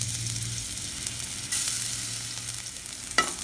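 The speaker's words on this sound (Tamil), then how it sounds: "எண்ணெய் சூடானதும் கடுகு போட்டுக்கோங்க. கடுகு நல்லா பொரியட்டும்." Mustard seeds splutter in hot oil at the start of a Tamil tuna puttu. A steady close sizzle runs throughout, with a few sharper pops and crackles and no talking.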